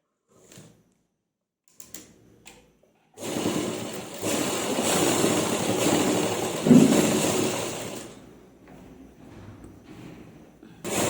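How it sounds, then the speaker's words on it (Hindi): A sewing machine stitches a kameez lining seam in one steady, fairly loud whirring run of about five seconds, preceded by faint handling clicks and followed by quiet. "इसमें भी हम लूजिंग के लिए एक्स्ट्रा सिलाई लगा लेंगे इस तरह से।"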